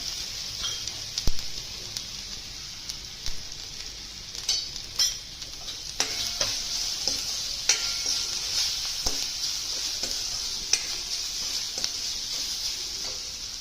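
Ground paste of green chili, garlic, ginger, coriander and curry leaves hitting hot oil in a pan for kadhi, giving a steady sizzle with scattered clinks and scraping stirs nearby.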